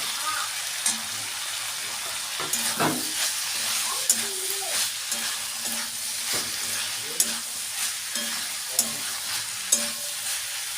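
Minced chicken keema with capsicum fries in a pan, with a constant close sizzle broken by frequent sharp scrapes and knocks of a spatula stirring the mixture.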